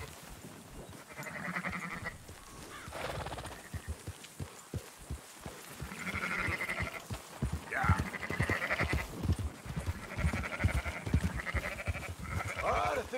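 Several sheep bleat in Red Dead Redemption 2 while a flock is herded, wavering calls repeating at moderate distance over a steady rumble with thumping footsteps.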